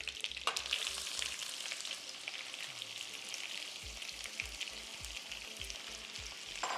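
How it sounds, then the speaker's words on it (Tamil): Finely chopped big onions fry in hot oil for a garlic kuzhambu, a steady close crackling sizzle throughout with a low rhythmic thumping underneath, and no talking. "நம்ம இந்த பொடியாக நறுக்கி வச்சுருக்க பெரிய வெங்காயம் இதை போட்டுக்க போகிறோம்"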